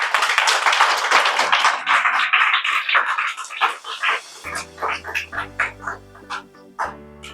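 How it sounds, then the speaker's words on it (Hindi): Church congregation clapping in quick bursts, then music with sustained keyboard tones and a low bass comes in while the claps continue. "प्रभु यीशु के नाम की जोरदार तालियां बजाएंगे हम लोग"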